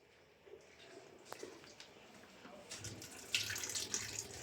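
Water runs from a tap, a soft steady flow that strengthens toward the end with splashy spatter, heard fairly close with no talk over it.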